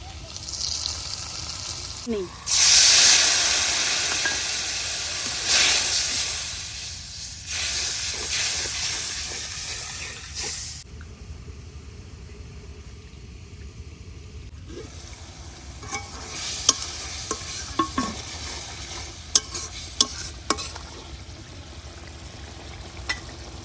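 Onions fried with turmeric, dried chili powder, coriander, cumin and salt sizzle loudly in a pan, with stirring scrapes throughout; the hiss drops quieter partway, then returns with scattered clicks of the spoon.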